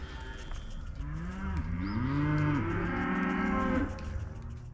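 Mashona and Angus cross cattle give a loud, close moo, one long drawn call that rises and falls in pitch over a steady low background hum.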